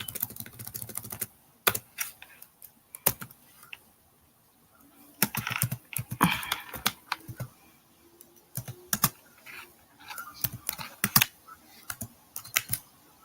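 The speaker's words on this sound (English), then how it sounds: "I'm typing it up in here now." A computer keyboard clatters with close, crisp keystrokes in irregular bursts separated by quiet pauses.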